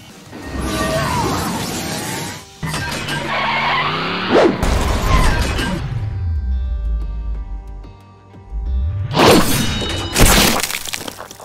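A fatality finishing move by Bumblebee against Soundwave in a Transformers-themed Mortal Kombat fight: a chaotic string of loud whooshes, metallic smashes, skids and shattering crashes, with a deep rumbling swell in the middle and harsh bursts near the end.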